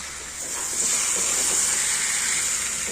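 Raw jackfruit and potatoes stir-fried with spices in a pan, giving a steady close hiss and sizzle that holds evenly for about three seconds.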